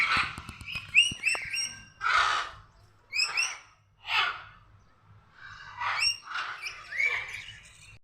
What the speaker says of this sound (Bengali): এটা হচ্ছে স্কারলেট ম্যাকাও।